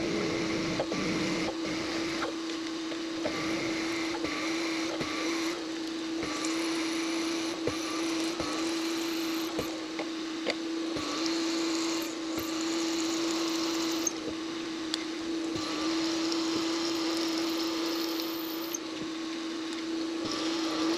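Mini lathe cutting metal on a home workshop bench, a steady continuous motor whine with grinding, scraping texture throughout, close and constant without talking.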